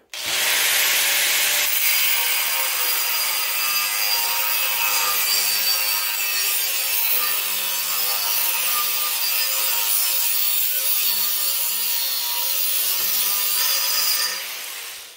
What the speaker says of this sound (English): come here with the grinder and cut a straight line across there